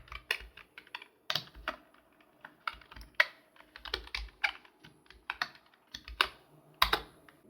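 Rapid, uneven clatter of computer keyboard keys as Python code for a blind auction program is typed, sharp close clicks in bursts with short pauses, no voices.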